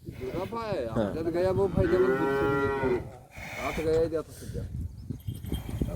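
A cow moos loudly nearby, a long drawn-out low call followed by a shorter second moo.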